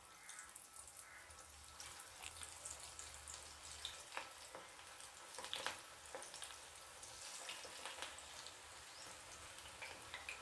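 Cowpea pakoda batter dropped in pinches into reheated hot oil, giving a steady bubbling sizzle that stays low and continuous with small crackles and light utensil knocks now and then, no voices.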